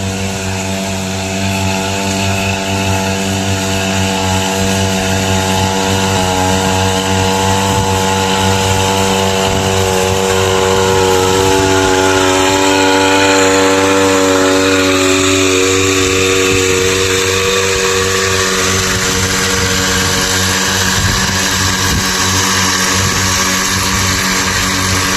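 An engine-driven swing pump sprayer runs steadily on a farm, spraying a soybean crop, its motor droning loud and close with a continuous harmonic whine throughout and no talk.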